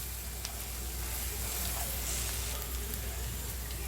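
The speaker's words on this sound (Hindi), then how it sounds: "अदरक लहसुन को भी अच्छे से भुने, अभी मसाले को भी अच्छे से भुनेंगे" A masala with ginger, garlic and green chillies fries in a pan for a brain curry, giving a dense, even sizzling hiss that holds steady throughout, close and moderately quiet.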